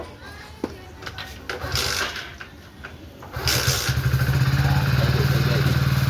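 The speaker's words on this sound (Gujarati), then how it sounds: "લ્યો, બાઇક તો ઠરી ગઈ છે, ચાલુ ન થતી, કિક મારવી પડશે એવું લાગે છે" A cold motorcycle that will not start easily is kicked over: scattered mechanical clunks and clatter, then the engine catches around the midpoint and settles into a steady, close, throbbing idle to the end, with faint background voices.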